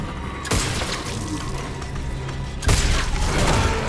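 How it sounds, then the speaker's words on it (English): Loud booming gunfire from the sci-fi survival horror game The Callisto Protocol, fired at a biobot enemy: two heavy blasts roughly two seconds apart, each followed by sustained roar and crashing debris. "I wanna see if I can shoot him."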